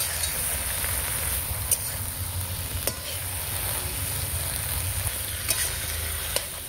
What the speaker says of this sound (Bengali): ভালো করে নেড়ে নেব। ভালো করে কষিয়ে নেব।